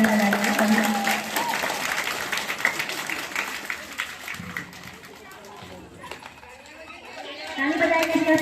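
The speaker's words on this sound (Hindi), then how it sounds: "जोर से ताली बजाइए" An audience at a school event applauds a game's winner, broadband clapping that is dense and steady early on, then thins and fades while voices talk over it.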